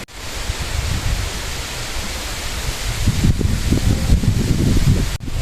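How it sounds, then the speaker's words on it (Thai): Strong wind blows outdoors along a roadside, a loud, continuous rushing roar buffeting the microphone and swelling stronger toward the end, with no voices heard. "ลมพัดแรงมากแถมมีแดดมาอีก"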